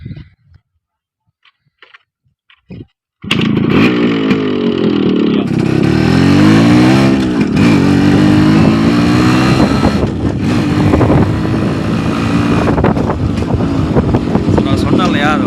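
A restored 2000 Yamaha RX 135 two-stroke motorcycle starts after a few quiet seconds, then its engine revs and pulls away through the gears, buzzing loudly and rising and falling in pitch with wind noise as it rides.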